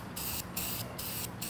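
Dupli-Color caliper paint sprayed from an aerosol can onto brake calipers, three short, close hissing bursts separated by brief pauses.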